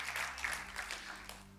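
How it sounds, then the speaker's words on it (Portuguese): A church congregation claps together during a worship service, a dense, fairly quiet patter of hands that continues steadily with little break and no voices over it. "dá um aplauso bem forte ao Senhor"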